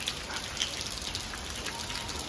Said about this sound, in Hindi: क्या ही देखिए गाइस कितनी ज़्यादा बारिश हो रही है